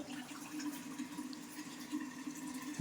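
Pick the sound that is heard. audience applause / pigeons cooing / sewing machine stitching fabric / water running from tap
water running from tap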